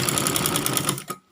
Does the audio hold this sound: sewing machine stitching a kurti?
yes